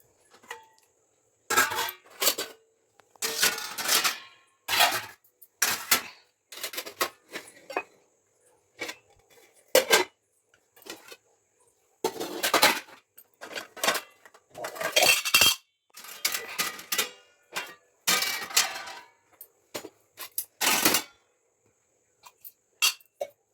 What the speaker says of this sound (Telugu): చూడండి ఇన్ని గిన్నెలు ఇవన్నీ సదిరేయాలి